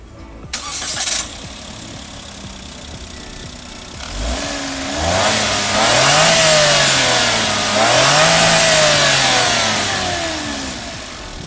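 Daihatsu Ayla 1200 cc engine cranks briefly and fires up, then settles into idle before two rising revs that swell and fall back, loud and close with no voices.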